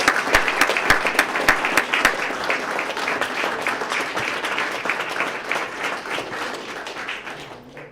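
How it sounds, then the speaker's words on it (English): An audience at a police swearing-in ceremony in Sarasota applauds new officers with sustained, dense clapping that gradually fades out at the end. "Again, let's give them a big round of applause."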